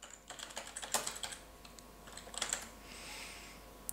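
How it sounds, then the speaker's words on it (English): Fingers type on a computer keyboard, a quiet close run of clicky keystrokes in short uneven bursts with a few sharper taps, no voices. "let's type in banner design."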